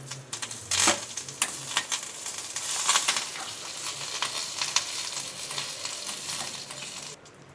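Dried red chillies and curry leaves sizzling with mustard seeds in hot oil, a dense steady crackle with sharp pops and spatters, moderately loud and ending abruptly.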